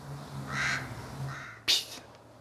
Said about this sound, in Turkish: Karga vakvaklamaya başladı.